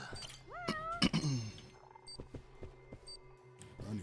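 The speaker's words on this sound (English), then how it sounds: "Kitty." A cat meows in the video game Judgment, two or three drawn-out rising mews up close, followed by soft game sound effects, thumps and faint electronic chimes.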